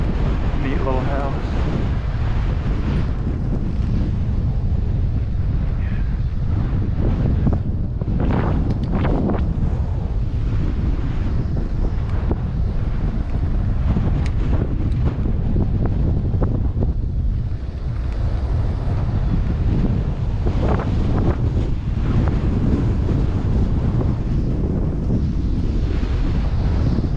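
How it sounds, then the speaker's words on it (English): Headwind buffeting a microphone while cycling on a rural Texas road loop, a loud, continuous low roar with gusty surges throughout, close and unbroken. "Man, that headwind."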